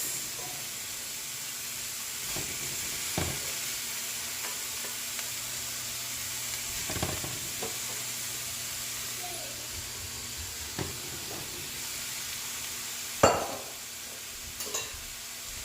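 Cabbage stir-frying in a pan on a stove turned to medium-high, Jamaican style: a steady, quiet sizzle and hiss runs throughout, with occasional soft scraping stir strokes and one sharper clatter near the end.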